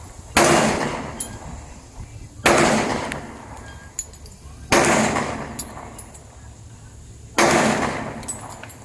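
Four loud, sharp pistol shots from a Smith & Wesson M&P Shield Plus firing steel-case ammunition, spaced about two seconds apart, each followed by a brief ringing decay outdoors at close range.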